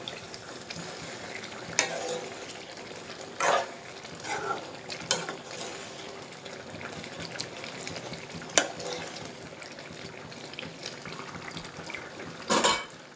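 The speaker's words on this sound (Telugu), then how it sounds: "కొంచెం గరం మసాలా అలాగే ఫైనల్గా కొత్తిమీర అయితే వేసేసి ఇలా కలబెట్టేసుకొని" Country-chicken egg curry stirred in a pot after garam masala and coriander go in, with a low steady simmer under intermittent clinks and scrapes of a spoon against the vessel, close and moderately loud.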